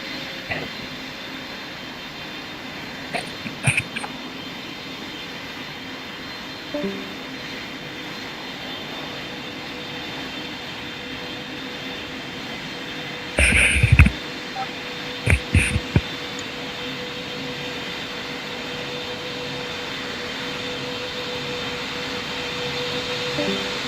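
Airliner landing in the Roblox game Pilot Training Flight Simulator, a steady broad jet engine roar held throughout, with a few brief clicks and bursts of interface noise.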